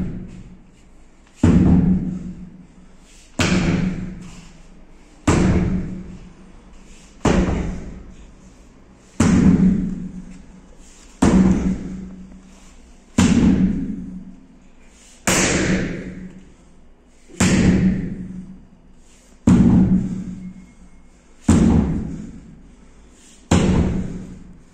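Heavy impacts during a strength and endurance personal-training session, about a dozen loud thuds landing in a steady rhythm roughly every two seconds, each one sharp and then quickly fading, with no talking.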